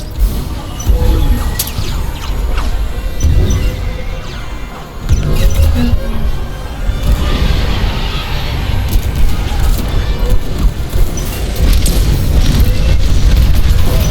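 Explosions and weapon blasts during a starfighter dogfight in the video game Star Wars Squadrons. Loud booms and crackling bursts repeat over a dense engine roar and layered combat noise, with brief radio voices in the mix.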